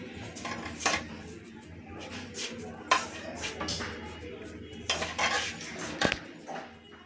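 Warm milk being mixed into rava laddu mixture in a metal vessel, with repeated clinks and scrapes of a spoon against the pot amid soft stirring, close and irregular.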